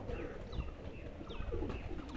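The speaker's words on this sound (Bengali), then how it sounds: "এটা হলো ফিমেল কবুতর" A female Saki Teddy pigeon coos softly with low, rolling, repeated calls, close but faint over a dull background rumble, no talking.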